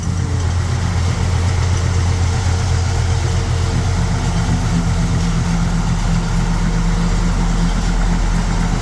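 A 1965 Chevrolet Impala V8 idles steadily and loudly up close, a constant low rumble with slight vibration and no change in pace; the start itself is not audible.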